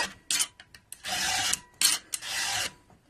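A metal file rasping across saw teeth during sharpening, several firm back-and-forth strokes of varying length with short pauses and light taps between them, close and clear with no voices.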